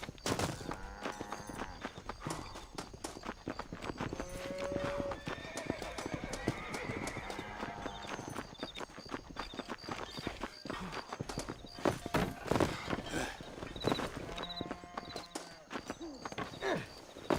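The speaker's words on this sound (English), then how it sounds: "That Drew McFarland is only an above-average horse" In the video game Red Dead Redemption on PC, a horse's hooves clip-clop in a steady gallop, mixed with loud whinnies and neighs. Game ambience runs underneath and a voice briefly murmurs.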